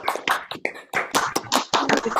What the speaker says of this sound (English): so everybody can clap for you